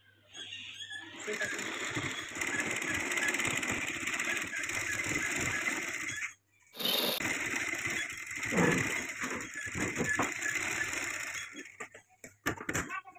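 A sewing machine stitches fabric piping onto a blouse neck, running in a continuous whirring drone that stops briefly midway, then resumes and ends in a few short bursts.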